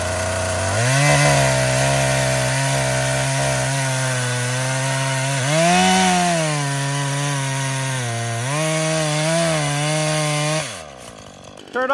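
A Husqvarna 440 chainsaw cuts wood at close range, its engine droning loud and steady for about ten seconds and revving up and down as it bites. It stops abruptly near the end, with no talk over it.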